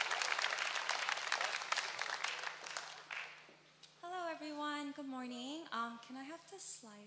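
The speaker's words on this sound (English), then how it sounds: "let's give them a round of applause as they come up" A church congregation applauds as members of the Women's Ministry come up, a dense wash of clapping for about three seconds that fades out, followed by someone speaking clearly over a quiet room.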